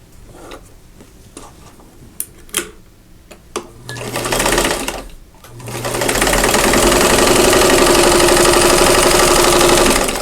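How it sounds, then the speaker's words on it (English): A sewing machine stitches a quilt block, starting with a few clicks and short bursts, then running in a loud, steady whirring hum for several seconds. Nobody talks. "I am going to start sewing on one corner, and then I'm going to turn it and sew a square onto the opposite corner."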